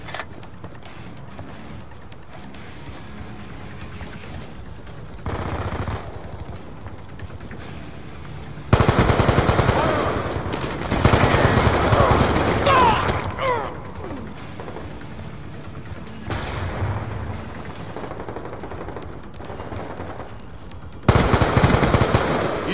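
Gunfire during a team deathmatch in Call of Duty Black Ops 2: dense automatic bursts and heavy volleys come in several loud waves over continuous battle noise.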